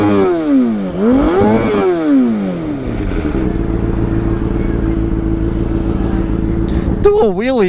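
A Honda CBR600RR sportbike revs up and down through the gears in wet, rainy conditions, then settles into a steady drone and gives a final sharp rev, loud and close.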